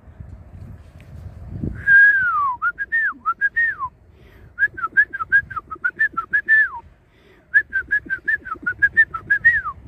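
Birds whistle repeated, rising-and-falling notes in clear rhythmic runs, loud and close, with brief pauses between phrases and faint low rustling underneath.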